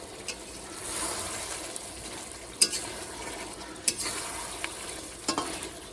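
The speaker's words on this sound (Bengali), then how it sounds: "এই যে চিকেনটা রান্না করছি এখানে তো কষাতে দিয়ে দিয়েছি বেশ সুন্দরভাবে কষানো হচ্ছে" Chicken pieces being stir-fried (kosha) in a pan, with a steady sizzle and a spatula scraping and stirring, plus a few sharp metallic clinks against the pan.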